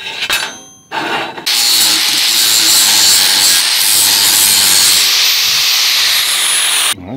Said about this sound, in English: Watch when I grind with it.